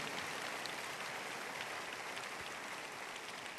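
A church congregation claps together at a Sunday service, giving a dense, even wash of applause that holds steady throughout at moderate distance.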